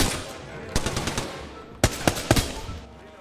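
Automatic gunfire in the video game Apex Legends: two quick bursts of sharp rapid shots, the first lighter and the second louder, with a quiet gap between them.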